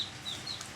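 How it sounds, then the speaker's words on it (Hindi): A backyard hen clucks briefly in short bursts over an outdoor ambience of steady noise, close by and moderately loud. "हमारी मुर्गी"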